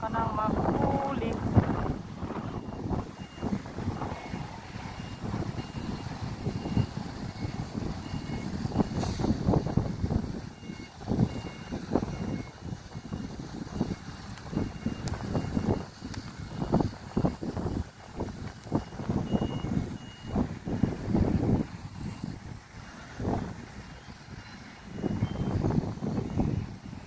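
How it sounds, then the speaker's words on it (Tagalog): Gusty wind buffets the microphone on a small fishing boat out at sea, a broad continuous rush with uneven surges, while a voice talks intermittently over it. "Ang gulo ng hangin"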